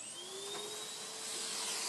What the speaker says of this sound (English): We're going to vacuum our surface.